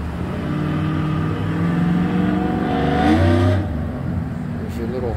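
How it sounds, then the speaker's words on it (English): Cars move through a lot in the Smoky Mountains at Pigeon Forge, heard from a fourth-floor view: a steady, mid-distance engine rumble with one car swelling louder as it passes, under ongoing ambient noise. "A lot of cars coming in."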